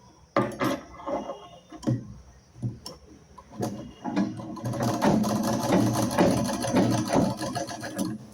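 A sewing machine stitches along folded, corner-cut fabric pieces for a sleeve, starting with a few short bursts and separate ticks, then running in a steady, busy whir with light clattering.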